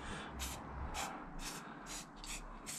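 A spray can mists a coating onto a collagraph printing plate in light, short bursts, about seven quick hisses at a steady rhythm, close and fairly quiet.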